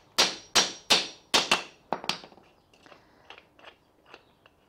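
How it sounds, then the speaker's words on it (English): Sharp wooden taps as a piece is driven down into wood on a rotary axis build, about six crisp close knocks in steady rhythm, then quieter scattered clicks and light knocks as a bolt is backed out. "give it a tap, back my bolt out a little bit and tap it down"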